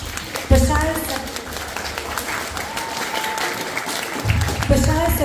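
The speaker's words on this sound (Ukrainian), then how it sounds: "Тому ще раз, будь ласка, аплодисменти." Applause from the audience at a Ukrainian school poetry event at St Mary's Ukrainian School, a dense steady clapping that continues throughout, with a voice speaking briefly at the start and end.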